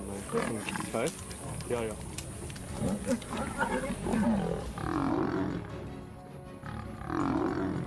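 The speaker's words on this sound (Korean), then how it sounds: "한 마리의 외로운 표범이 12마리 이상의 사자 무리에게 사방에서 포위된 장면이 담겨 있습니다." A pride of more than twelve lions surrounds and attacks a lone leopard in the wild, producing repeated deep roars, snarls and grunting growls, loud and continuous throughout with overlapping animal voices.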